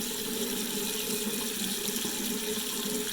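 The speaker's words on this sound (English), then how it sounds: "And then I rinse." Steady running water from a sink tap splashes continuously as a face is rinsed, a close, even broadband wash with no voices.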